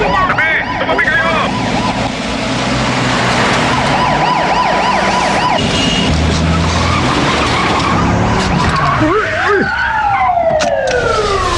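Police siren wailing over a car skidding, loud and close, with rising tyre screeches and engine noise filling the scene while voices shout underneath.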